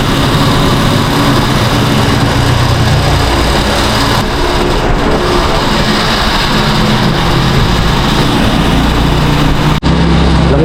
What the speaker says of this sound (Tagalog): Matagal ko na itong pangarap ganitong motor.